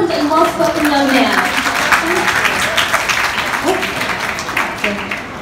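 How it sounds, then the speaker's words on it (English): Audience applause at a book tour event in Washington DC, steady clapping mixed with cheering voices and crowd chatter, fairly loud and close, tapering slightly toward the end. "Can we have one more round of applause for such an eloquent and well-spoken young man?"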